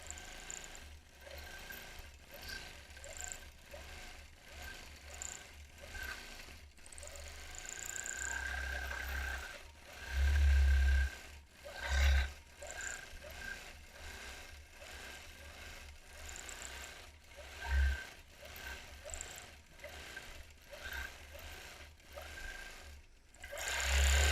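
A sewing machine free-motion quilts a palm leaf design. It runs in short, fairly quiet bursts of rapid stitching with brief pauses and a few louder, heavier spurts of mechanical whirring. There is no talking.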